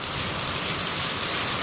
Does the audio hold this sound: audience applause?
no